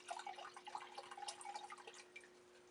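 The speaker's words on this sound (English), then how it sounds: "Pour yourself a glass of apple juice." Apple juice from a freshly opened sterile bottle streams into a glass for homemade hard cider, a light, steady trickle with small splashes running throughout at low level.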